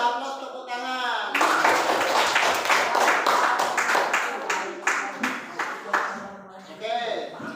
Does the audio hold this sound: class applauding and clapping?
yes